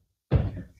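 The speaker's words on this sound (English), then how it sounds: "open the door" A travel trailer door on a 2020 Coachmen Catalina 263 BH swings open after a moment of silence, giving one close, solid thud that fades into a short rattle.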